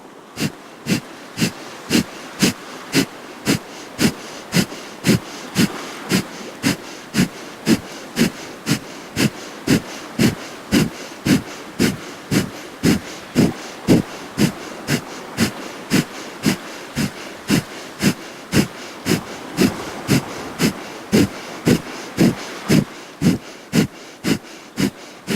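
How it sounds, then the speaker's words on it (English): Kundalini breath of fire performed steadily, sharp nasal exhalations about one per second repeated dozens of times in an even rhythm, loud and close, with no talk. "Let's inhale to begin breath of fire."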